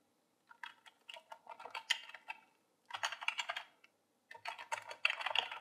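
Typing on a computer keyboard in three quick bursts of soft, close key clicks separated by short pauses, with no talking.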